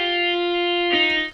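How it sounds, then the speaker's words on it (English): A MIDI keyboard note in a rock guitar-style part, bent upward with the pitch wheel: a sustained, bright, harmonically rich tone holds steady, then slides with a smeared bend near the end before cutting off. "that's because I've used the pitch wheel on my MIDI keyboard"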